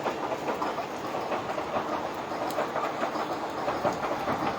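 A train rolls past on the railway track right beside an ashram, a steady broadband rumble with faint rhythmic clatter holding close and loud throughout, with no voices.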